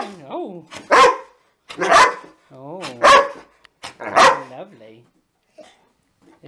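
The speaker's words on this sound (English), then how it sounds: "This is a mad dog, he's happy to see me." An excited dog in a home front room barks in four loud, evenly spaced bursts about a second apart, each with a yipping, whiny edge, close to the listener; a person speaks briefly between the barks.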